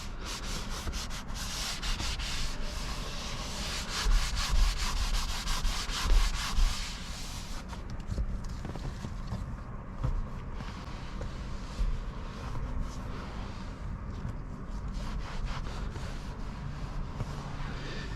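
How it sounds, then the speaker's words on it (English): Leather cleaner is rubbed by hand onto a vinyl piece of a car's interior seat, making a continuous close scrubbing and rubbing sound with rhythmic strokes that soften after several seconds; no talking. "I'm just gonna go ahead and clean this vinyl piece here."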